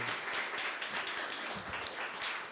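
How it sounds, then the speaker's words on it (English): An audience at a startup demo day pitch event applauding, a continuous dense patter of clapping at moderate loudness lasting throughout, alone with no voices. "Let's give him one more round of applause."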